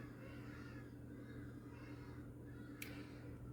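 Outdoor birds, most likely crows, call faintly in the distance over a steady low background hum, with a single sharp click near the end.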